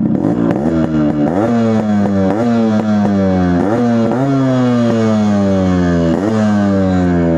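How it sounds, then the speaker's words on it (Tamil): Restored Yamaha RX100 motorcycle, fitted with modified suspension, revving repeatedly in a series of sharp throttle blips, its raspy two-stroke exhaust note loud and close, rising and falling with each rev and no talk over it. "இந்த வண்டியோட எக்ஸாஸ்ட் நோட் கேட்டிருப்பீங்க."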